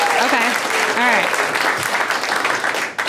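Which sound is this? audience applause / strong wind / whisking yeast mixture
audience applause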